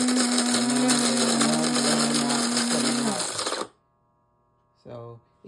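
A Cuisinart coffee grinder whirs loudly with a steady motor hum while grinding coffee beans, then cuts off abruptly, followed by a short mechanical beep-like tone.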